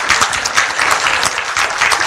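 Audience applause at an addiction and recovery lecture, a dense, steady wash of many hands clapping loudly throughout with no voices on top.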